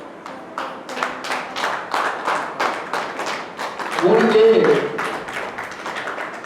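Rhythmic hand clapping at a steady beat, a dozen or so claps, with a voice speaking over it midway.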